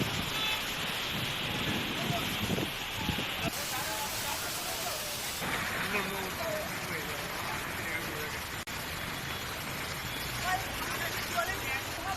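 Heavy rain pours over Surat city in a dense, unbroken roar with gusty wind noise, and voices can be heard beneath the downpour.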